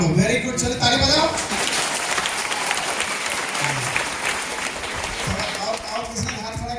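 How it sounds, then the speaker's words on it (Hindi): Children clap together in a steady burst of applause at a school gathering, the clapping sustained and fairly loud with voices mixed in. "चलो ताली बजाओ"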